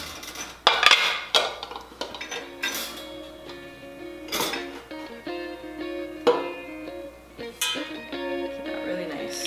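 Cooled chocolate cakes being turned out onto a plate, with scattered clinks and knocks of plates, pans and utensils handled nearby, a few sharper ringing taps standing out while people talk quietly in between.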